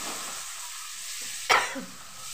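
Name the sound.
onions frying with dried chillies and bay leaf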